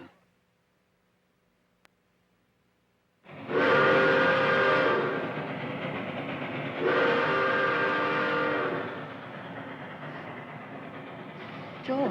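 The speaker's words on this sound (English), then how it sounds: "do you hear that train?" After a few seconds of quiet, a train roars in loudly with a blaring horn sounding twice, the rumble continuing steadily as it passes close by.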